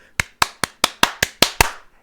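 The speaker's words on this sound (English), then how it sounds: "clapping my hands." Eight sharp hand claps at a steady, fairly quick rhythm, each one crisp and close with a short decay, no voices present.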